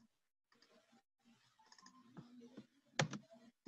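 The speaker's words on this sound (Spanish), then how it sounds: "lo he hecho doble clic en la palabra y luego control C" A computer mouse double-click and a Ctrl+C keyboard shortcut for copying text, heard as clusters of soft clicks and key taps, close and fairly quiet, with one sharper burst of clicks near the end.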